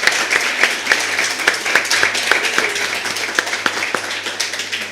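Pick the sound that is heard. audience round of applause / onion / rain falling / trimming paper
audience round of applause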